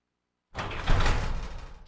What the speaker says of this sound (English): Garage door.